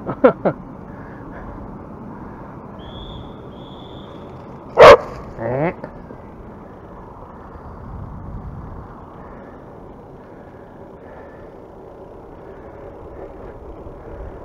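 A dog lets out a single sharp bark with a couple of quick follow-up yips, heard outdoors during a ride past unleashed dogs, over steady wind and road noise with some speech.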